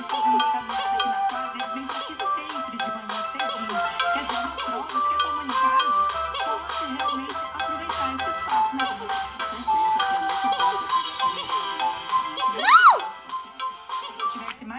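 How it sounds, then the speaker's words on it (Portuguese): A cartoon-style telephone ringtone sounds in the Pou virtual pet game, a steady electronic ringing pattern under a child's chatter and game jingles, with a rising chirp near the end. "Agora, ó, já tá tocando o telefone"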